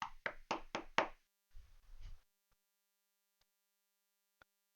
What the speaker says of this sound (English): you hear a knock at the door